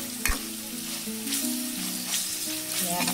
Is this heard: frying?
yes